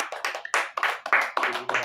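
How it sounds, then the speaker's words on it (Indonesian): A church congregation claps during a sermon, in a run of uneven bursts of hand claps that rise and fall over a couple of seconds, with a few voices mixed in. "Tepuk tangan"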